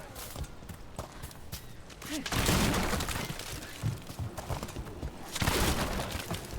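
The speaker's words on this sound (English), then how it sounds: "Just smashing your crates, don't mind me." Wooden crates smashed open in Dragon Age: The Veilguard, breaking in bursts of splintering crashes over a steady background, with a softer clatter between the two main impacts.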